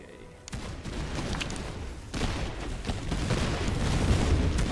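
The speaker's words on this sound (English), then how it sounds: "Oh, a cannon shot landed perfectly." Cannon shot and scattered gunfire in a strategy video game battle around a church, loud booming impacts and crackling musket volleys building over a rumbling battlefield bed, with brief talk.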